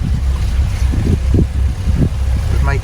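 A boat engine at tick over, a low steady rumble close by, with gusting wind buffeting the microphone in repeated bursts over it.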